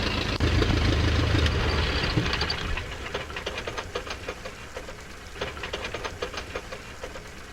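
A loud aircraft engine drone in a flight simulator runs for a couple of seconds, then winds down and cuts out at shutdown, leaving a softer, crackling rumble.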